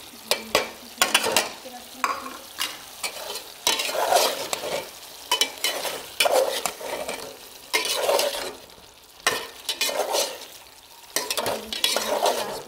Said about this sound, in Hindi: अब हम इसमें ऐड करेंगे थोड़ा सा गरम मसाला पाउडर और ये 2 ग्रीन चिली